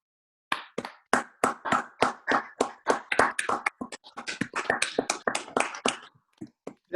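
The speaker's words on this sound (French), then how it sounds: "Je vous propose que nous l'applaudissions tous ensemble." A small group in a council plenary session claps in unison with slow, loud, evenly spaced claps, the rhythm breaking into looser scattered clapping before fading to a few last claps.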